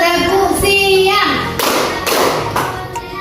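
Hands clap in quick rhythmic bursts to an Indonesian clapping game, alongside a group chanting, loud and close in a lively room.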